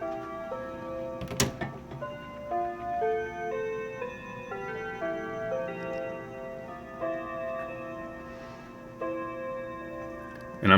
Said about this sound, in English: as soon as this clock behind me stops playing, I'll show you what it sounds like